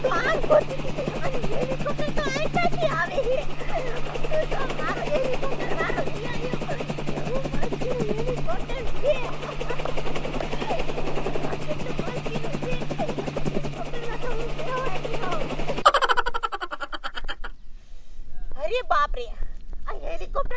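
A loud, steady helicopter drone with rhythmic rotor chop fills most of the clip, then cuts off abruptly to crackly quieter noise near the end.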